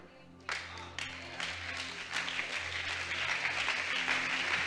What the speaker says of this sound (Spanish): Gracias por ese aplauso